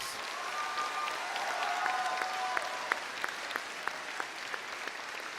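Steady applause from a graduation audience honoring newly graduating students, a dense even patter of many hands with a few sharper claps standing out near the end, moderately loud and continuous throughout.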